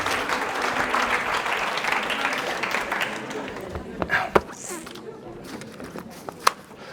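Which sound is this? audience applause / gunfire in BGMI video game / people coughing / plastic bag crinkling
audience applause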